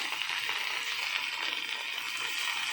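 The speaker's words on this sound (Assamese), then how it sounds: "ইফালে ভেন্দি ভাজি বহাই দিলোঁ" Okra frying in a pan gives a steady, even hiss and sizzle, close and continuous with no voices.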